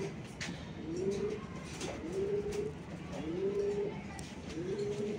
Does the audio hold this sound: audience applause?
no